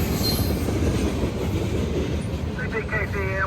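CPKC freight train 267 rumbles past on the rails of the Artesia subdivision, a steady roar of wheels with faint squeals near the end.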